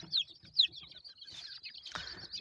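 A few soft, short clucks from chickens and chicks nearby, with light chirps in between, in a quiet setting.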